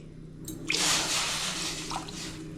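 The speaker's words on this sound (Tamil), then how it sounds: "அதே கப்பில் ரெண்டு கப்பு தண்ணி ஊற்றிக்கலாம்" Water is poured into a cup for making crispy murukku vathal (vadaam): a soft splash starts it, then a steady, fairly quiet, close stream of liquid pours and slowly tapers off, with no voices.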